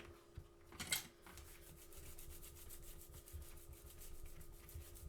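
A bone folder rubs repeatedly over gilding flakes laid on paper, producing close, quiet rhythmic scraping strokes with a brief louder rasp near the start.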